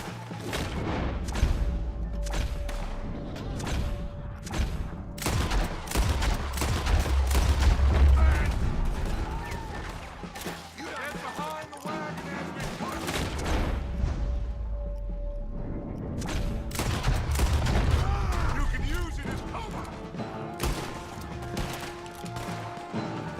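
Rapid gunfire and booming shots ring out in a Red Dead Redemption 2 shootout, volleys repeating throughout with short lulls, loud and close, with someone talking over parts of it.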